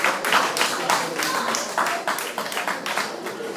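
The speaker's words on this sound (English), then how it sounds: "Round of applause, please." A crowd at a school old students' end-of-year party claps steadily for an award presentation, dense applause of many hands close by, with a few voices faintly underneath.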